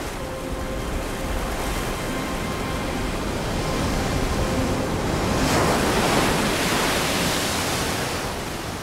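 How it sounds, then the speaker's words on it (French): Ocean waves breaking over coastal rocks make a continuous broadband roar that swells toward the middle and then eases slightly, close and loud with wind-like hiss and no voices. "Pour la rejoindre, il faut d'abord franchir les rochers balayés par les vagues."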